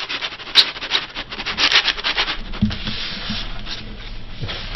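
Foam board wing rocked down and slid into the fuselage slot of an FT Cruiser model plane, a close, continuous scraping rub with squeaky bursts, rising and falling over several seconds.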